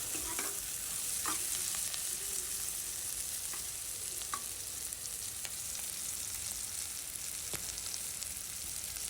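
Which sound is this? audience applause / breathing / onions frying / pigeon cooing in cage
onions frying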